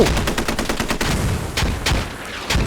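Rapid video game gunfire rattles in dense bursts, loud and close, with sharp repeated shots running almost the whole time.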